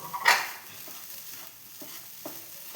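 Jaggery mixture with coconut being stirred in a pan over low flame, giving a soft, faint sizzle with a brief louder scrape at the start and a few light spoon knocks spaced out afterward.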